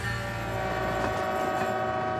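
A 16,000-ton canola freight train heads through the Rocky Mountains toward Revelstoke, its engines giving a steady, dense, faint rumble with a sustained tonal drone, heard alone for a couple of seconds.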